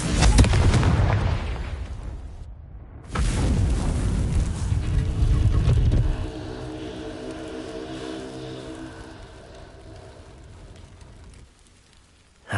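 A Confringo spell in the Hogwarts Legacy video game blasts apart a vase with two heavy, rumbling booms. A crackling, debris-like tail follows and fades into a ringing, sparkly shimmer that slowly dies away.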